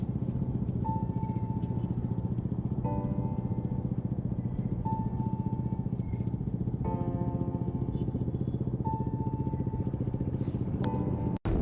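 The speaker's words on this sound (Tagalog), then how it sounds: "Ito ako yung top speed ng motor." Motorcycle engine droning steadily at top speed on a ride through Lucban, Quezon, a close, constant buzzing hum with slight pitch shifts and no talking.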